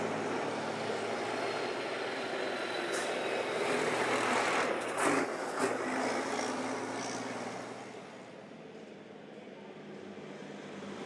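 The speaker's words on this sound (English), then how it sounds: "Now as all the trucks make their way in." Racing trucks at Zolder circuit rolling into the pit lane after a qualifying session, a steady broad engine and tyre rumble with some louder passing moments midway, easing slightly toward the end.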